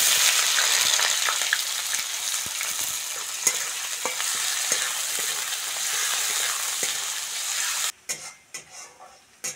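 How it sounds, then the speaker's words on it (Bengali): Chopped onions frying in mustard oil in a wok for a Bengali village fish-head and ash gourd dish give off a loud, steady sizzle with scattered stirring clicks. The sizzle stops abruptly near the end and leaves only faint bumps. "পেঁয়াজটা ভালো করে ভেজে নিয়েছি"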